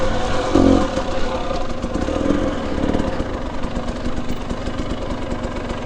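A two-stroke dirt bike engine that is running poorly keeps up a steady, buzzy, uneven drone close by. It runs without a break for the whole stretch.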